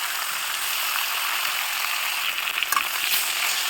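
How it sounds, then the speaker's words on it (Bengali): Rohu fish heads fry in mustard oil with turmeric, giving a steady, dense, close sizzle throughout, with a few brief clinks and scrapes of a utensil near the end. "তারপরে মাছগুলো ভেজে নেব মানে মাছের মাথাগুলো আর কি"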